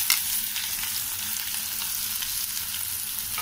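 Boiled raw papaya pieces frying in a tempering of cumin and curry leaves, giving a continuous soft hiss and sizzle with light crackling throughout.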